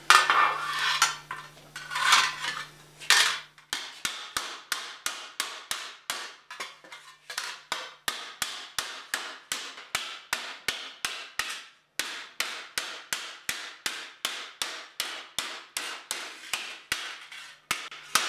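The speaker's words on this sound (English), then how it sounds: "I decided to use a hammer that reaches in a little bit better, with a nice high crown on it for really good stretching" Steady hammer blows on sheet metal, stretching tucks with a high-crowned hammer that reaches into a deepening shape, ringing close and loud in an even rhythm of dozens of sharp metallic strikes, with a few heavier ones at the start.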